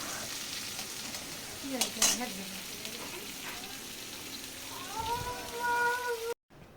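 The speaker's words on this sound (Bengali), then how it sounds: "তেলের উপরে গোটা জিরে আর পেঁয়াজ কুচনো দিল" Chopped onion and whole cumin frying in oil while being stirred, a low steady sizzle with occasional scraping strokes and a brief tonal sound near the end, fairly faint overall.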